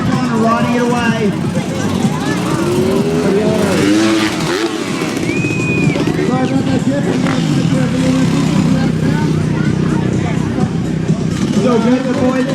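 A motorcycle rides away at a bike show, its engine rising and falling through revs amid a loud, busy crowd with voices and cheering throughout.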